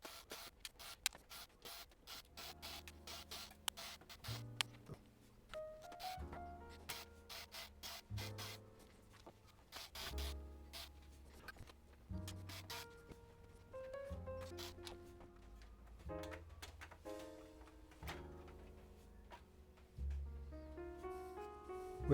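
Back panel being pried off a Yamaha HTR-3065 receiver, close-up scraping and rubbing with sharp clicks and clacks of plastic and metal, short irregular bursts throughout, no talking.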